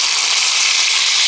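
Onions hit hot oil in a pot for ilish polau cooked outdoors, giving a loud, steady, close hiss of sizzling with no break.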